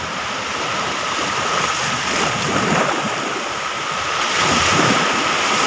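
Sea waves wash steadily onto a sandy beach, a loud continuous roar of surf with wind buffeting the microphone.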